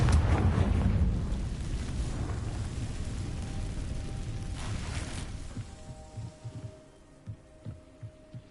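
A Confringo fire spell bursts in Hogwarts Legacy with a loud, roaring blast up front that rumbles and fades over several seconds, ending in a few scattered low thumps.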